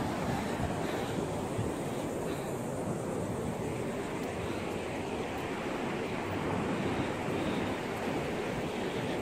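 Ocean waves wash onto the beach at Morris Island in a steady, broad surf roar mixed with wind buffeting the microphone, continuous and fairly loud without clear breaks.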